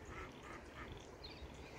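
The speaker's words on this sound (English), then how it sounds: "Can you hear the ducks?" Ducks in a garden quack faintly in the distance over soft outdoor background noise.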